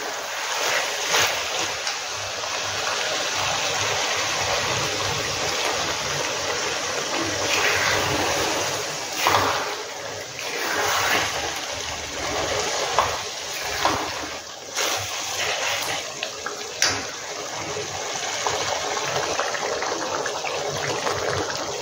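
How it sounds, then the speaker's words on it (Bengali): Water splashes and pours into a pan of spicy chicken liver curry, a steady broadband rush with a few sharper splashy bursts, close and fairly loud, with no talk over it. "তো এখানে এখন আমি জল দেবো, একটু দিয়ে ঢাকা দেব।"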